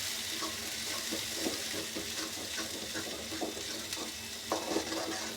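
Masala sizzles in a hot pan while a utensil scrapes and stirs it in irregular strokes, with a steady frying hiss throughout and a few louder clinks near the end.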